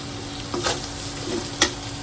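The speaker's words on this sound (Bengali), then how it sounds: "মশলাটা ভালোভাবে কষায় নেব" Spice masala sautéing in a pan during home cooking, a steady close sizzle with a few short stirring scrapes and one sharper clink near the end, with no talking.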